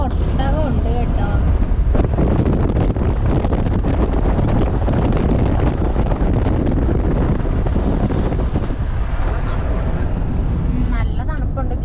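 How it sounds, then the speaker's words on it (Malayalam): Cold wind roaring through a lowered car window on a road near Hatta, a loud, constant buffeting rush that fills the whole stretch, with a person talking underneath it. "ഗ്ലാസ് അങ്ങോട്ട് താഴ്ത്തിയപ്പോഴത്തേക്ക് ഭയങ്കര തണുത്ത കാറ്റ്"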